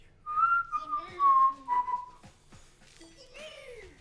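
A person whistles a short wavering tune during a break in a Ring Fit Adventure exercise session, several bright close notes with gaps, some tones sliding up and down.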